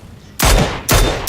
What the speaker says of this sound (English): those gunshots made me obvious that there is an enemy around